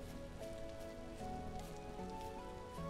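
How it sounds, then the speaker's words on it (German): Steady rain falling in the blocky survival game Vintage Story, a continuous patter under soft tonal game music, with no voices. "Weil es regnet ja quasi."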